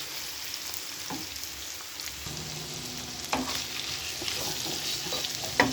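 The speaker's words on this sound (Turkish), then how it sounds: "temizledim ciğerlerimi şöyle ilave edip soteleyeceğim" Chopped liver sautés in a hot pan, a steady close sizzle with occasional stirring scrapes and clinks, no talk.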